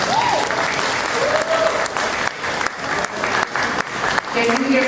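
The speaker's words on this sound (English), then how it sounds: "Round of applause for Miss Myrtle Jones." Crowd applause at a jazz hall of fame induction ceremony, loud rapid clapping with uneven swells and dips throughout, and a voice briefly heard over it.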